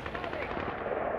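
Automatic gunfire crackles in a dense, continuous burst from a Modern Warfare video game firefight, loud and close throughout with no clear pauses.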